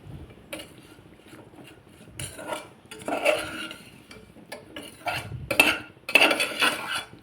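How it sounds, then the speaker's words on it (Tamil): A spoon scrapes and clinks against a pan while okra is stirred lightly as it roasts in oil, producing irregular bursts of metallic scraping, close and fairly clear, growing busier toward the end. "கருக விட்டுறாதீங்க, லைட்டாக கிளறி விட்டுட்டே இருங்க."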